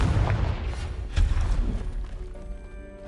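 A Confringo explosive spell in Hogwarts Legacy goes off with a heavy, booming blast and rumbling crash debris, a couple of strong low impacts in the first second and a half before tailing off into a fading rumble.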